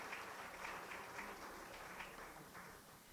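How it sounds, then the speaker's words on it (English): Faint, steady applause from an audience at a conference panel on education and resilience in Latin America and the Caribbean, sounding as an even, distant patter of many hands with no talk over it. "Again, a round of applause."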